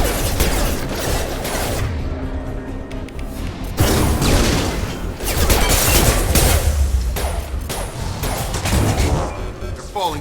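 Gunfire in the Mass Effect 2 video game, a loud, dense run of rapid shots and thuds with booming impacts, continuing in bursts and swells across the whole stretch.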